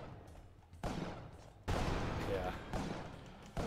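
Gunfire in the video game Spelunky, with a few sharp broadband bursts roughly a second apart, each followed by a sustained rumble under a faint background.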